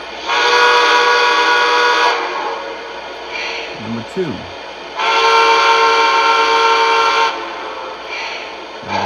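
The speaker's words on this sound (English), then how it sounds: "here's the first whistle." Lionel AC-9 model train steam whistle blown in two long sustained blasts of about two and five seconds, loud and close, with a short spoken count between them.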